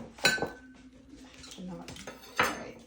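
A knife saws through a loaf of stale bread, with two sharp scraping crunches near the start and end and quieter rasping and clatter in between, close by.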